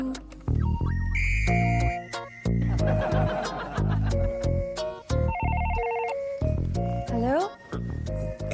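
A telephone in a Hindi TV comedy serial sounds a rapid series of dialling tones at shifting pitches, then rings, with bursts of studio laughter and brief chuckles around it.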